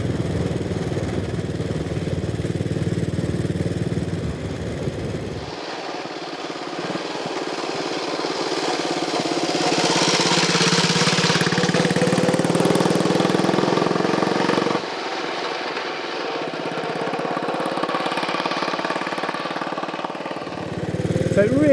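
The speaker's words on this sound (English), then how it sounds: "that classic single-cylinder thumper of a soundtrack, which is just a delight on an English country road like this" A Vincent single-cylinder motorcycle, the 1932-era Model P, thumps along an English country road with a steady throbbing beat, its engine note rising and easing through gear changes over wind rush.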